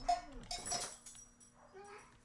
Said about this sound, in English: A little more barking.